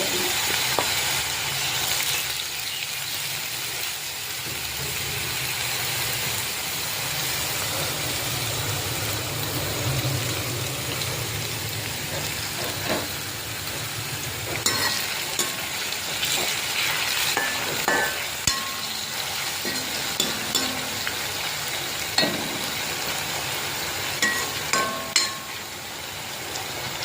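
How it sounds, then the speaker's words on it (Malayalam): Steady oily sizzle of potatoes frying in coconut oil in a pan, with occasional stirring scrapes and clinks cutting through the hiss; no talking. "കുറച്ച് ഉരുളക്കിഴങ്ങ് ഇട്ട് കൊടുക്കാം കുറേശ്ശെ ഇട്ട് വറുത്തണേ"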